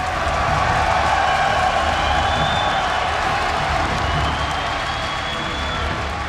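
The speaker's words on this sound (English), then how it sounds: "make some noise for Jaedong." A large crowd cheers and applauds at the StarCraft 2 WCS Global Finals 2013 grand final, a dense, sustained roar of clapping and shouting that stays loud throughout, with a commentator's voice faintly mixed in.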